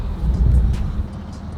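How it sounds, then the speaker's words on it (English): A classic Buick Grand National car driving, heard from inside as a steady low engine and road rumble for a short stretch, with no talk over it. "Going for a ride in the Grand National."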